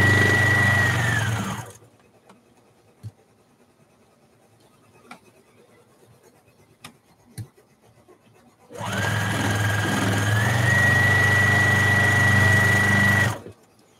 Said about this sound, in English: So I'm using Kristen's sewing machine.